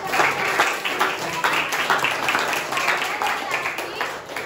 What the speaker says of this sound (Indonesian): Boleh beri aplaus.